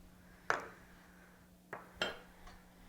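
A spoon knocking against a bowl while chocolate is scraped off it into a souffle mixture, heard as three quiet, separate clinks with a hushed room in between.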